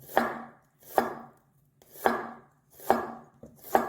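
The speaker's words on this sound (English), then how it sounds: "You put your knife up behind your fingers. And then you just make really thin slices." A knife slices food into very thin pieces on a kitchen board, five distinct crisp chops spaced roughly evenly and close by, with no voices.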